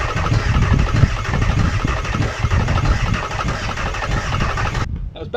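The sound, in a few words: van engine running after starting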